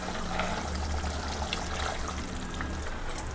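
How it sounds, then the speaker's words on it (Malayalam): Water trickles and pours into a pan of fish curry cooking in oil, a soft, steady liquid stream heard alone at low volume. "ഇനി നമുക്കിതിൽ കുറച്ച് വെള്ളം കൂടെ ആഡ് ചെയ്യാം."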